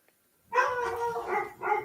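Dogs barking and yipping in a short burst after a moment of silence, fairly faint and somewhat muffled, with no speech.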